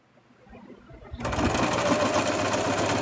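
A sewing machine stitches a straight line through thick material, starting abruptly after a quiet moment and running as a steady, loud, close mechanical whir.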